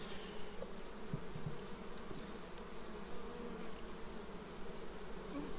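Honey bees fly around a beehive on a warm day, making a steady, dense buzzing hum close by, with no voices.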